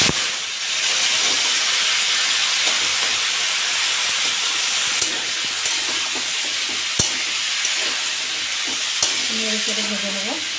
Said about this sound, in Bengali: ওই তেলে আমি এঁচোড়গুলো ভেজে নেবো।